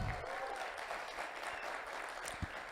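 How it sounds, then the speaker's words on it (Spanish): A panel audience applauds steadily for a speaker at a civil-society cannabis forum in Chile. The clapping is a dense, sustained wash that fades a little toward the end. "Un aplauso para él, por favor."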